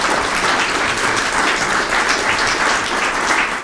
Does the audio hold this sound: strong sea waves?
no